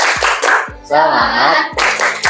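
A class of children claps in a quick rhythmic pattern, bursts of claps alternating with chanting voices in Indonesian, loud and close.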